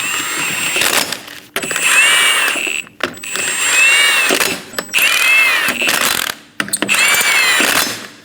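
Power tool snugging down the wheel lug nuts on a 2008-2015 Scion xB, several loud close whirring, ratcheting bursts, each a second or so long, separated by short pauses.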